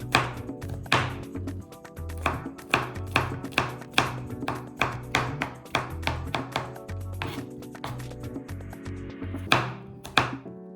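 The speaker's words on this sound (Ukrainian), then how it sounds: "Так само подрібнюю чесничок." A knife chops garlic on a cutting board in a home kitchen, a steady run of crisp close taps, about two per second, with no talking.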